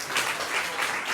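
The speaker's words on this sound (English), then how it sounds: "Let's give yourselves a round of applause." Attendees at a community meeting applaud after a breakout group activity, a short even patter of clapping hands filling the room.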